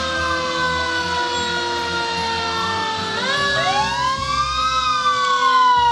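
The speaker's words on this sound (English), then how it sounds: "The Welling Tri-Community Fire Department is out in full force, blaring their sirens" Fire truck sirens from the Welling Tri-Community Fire Department rolling through an outdoor Tahlequah Christmas parade, loud wailing tones that sweep up and down and overlap continuously, with no voices over them.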